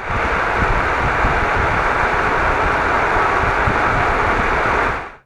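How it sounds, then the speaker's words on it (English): Continuous broadband roar of car tires rolling over a road surface, a steady close rushing noise with a low rumble, holding level for about five seconds before cutting off abruptly. "What you just heard was the sound of car tires while the car was driving on a certain surface."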